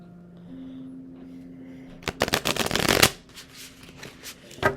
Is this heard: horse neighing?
no